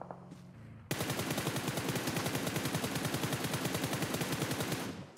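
Automatic gunfire in PUBG Mobile erupts after a short quiet lead-in into a long, rapid, evenly spaced burst of shots, loud and sustained for about four seconds before stopping abruptly.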